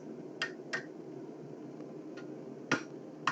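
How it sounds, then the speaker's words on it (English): Light hammer blows land on hot metal in a blacksmith's forge, making sharp, quiet taps spaced irregularly. Two come early and two more near the end, over a low, steady background hum. "Now these are really gentle hammer blows."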